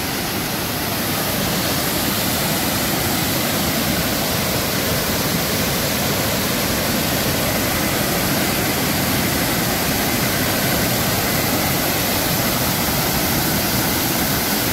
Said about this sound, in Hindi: ये पानी का शोर